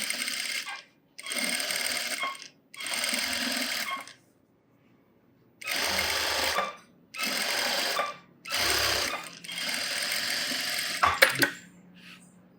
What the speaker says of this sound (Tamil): மேலே ஒரு எட்ஜ் தையல் போட்டுக்கலாம்.